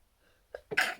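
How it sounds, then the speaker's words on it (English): A single sharp sneeze, close and sudden, preceded by a short intake of breath in an otherwise quiet room. "excuse me, I have the sneezes now"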